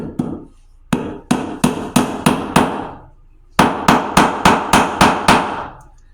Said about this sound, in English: I hit it with a hammer